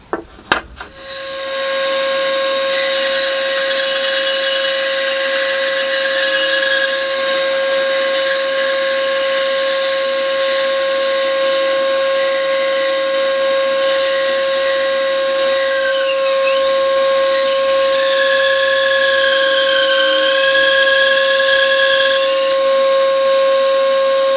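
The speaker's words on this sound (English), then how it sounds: "That will give me a flat face that I can run through the bandsaw." A bandsaw in a small workshop shed cuts flat-faced wooden shapes, a steady high whine with a sustained tone holding for over twenty seconds, loud and close with shifting pitch as the blade works through the wood.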